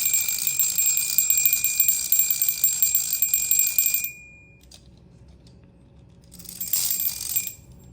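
The bell on a wind-up Oghon Bat toy tricycle rings in a rapid continuous metallic trill up close for about four seconds, falls silent, then gives one shorter burst of ringing.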